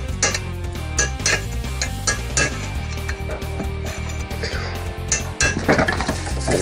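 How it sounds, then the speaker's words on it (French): Repeated metallic hammer blows on the edge of a Renault 4L rear wheel cylinder block, sharp irregular clanks over a steady low background. "je vais essayer de taper sur le bord du cylinder bloc pour essayer de le casser"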